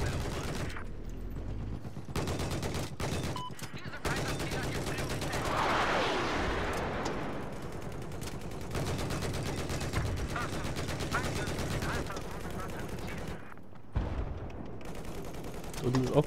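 Battlefield 4 combat with a tank firing from a distance, dense continuous gunfire and explosive blasts with mechanical noise, while a player talks over it.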